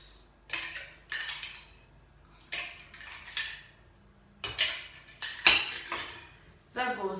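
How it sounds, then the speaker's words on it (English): Ice cubes drop into a liquid smoothie base in a home kitchen, giving sharp clinks and clatters in about eight separate bursts against a blender jar, each followed by a brief rattle. "then I'll add my ice cubes"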